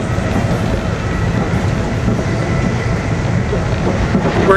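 Steady rumble and rail noise from inside Amtrak's original Acela Express passing through Trenton, New Jersey, a continuous loud ride sound without pauses.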